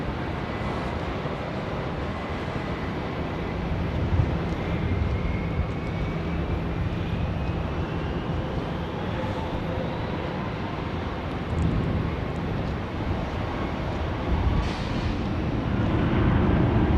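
Jetstar airliner accelerating down runway 16 right at Sydney Airport for takeoff, a steady broad jet engine roar that holds loud and continuous throughout, with a faint rising whine.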